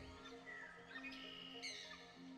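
A sparrow chirping in a video game, several brief high tweets and trills sounding faintly over a steady background tone.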